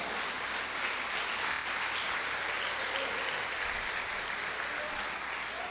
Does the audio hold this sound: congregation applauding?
yes